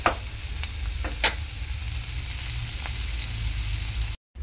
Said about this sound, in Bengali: উচ্ছে ভাজাটা প্রায় হয়ে এসছে, আর একটুখানি হলেই হয়ে যাবে